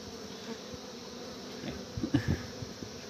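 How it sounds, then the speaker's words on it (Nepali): Bees buzz faintly in a hat after being captured, a continuous low drone with a few louder close passes near the end. "आयो सबै मौरी पक्रेको हामीले हैन टोपीभरि"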